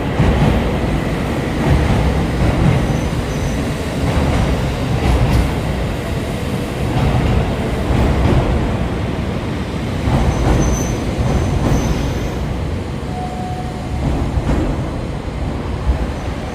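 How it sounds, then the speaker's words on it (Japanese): Train pulling into a JR railway station platform in Japan, a loud continuous rumble of wheels and carriages with a thin metallic squeal rising near the end, no talk over it. "まもなく9番線に列車が到着します。"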